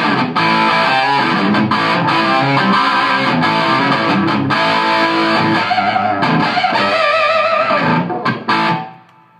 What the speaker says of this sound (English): you're going to get a little more distortion because you're introducing distortion now at the phase inverter as well as the preamp section